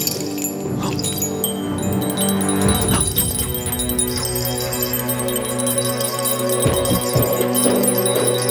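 Bright metallic bell ringing from a martial arts film sound effect, a bell used to control minds, sustained and shimmering with loud overlapping tones and a few sharp strikes, with no speech.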